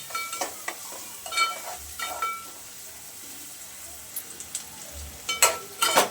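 Tomatoes softening in a pan for a quick egg bhurji, giving a quiet, sparse sizzle broken by occasional soft stirring scrapes and taps, with no voices.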